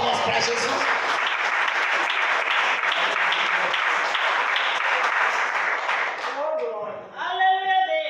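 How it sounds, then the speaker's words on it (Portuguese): A church congregation claps together in a dense, sustained burst of applause that fades after several seconds, and a voice then speaks over a quieter room. "A igreja bate palmas para Jesus."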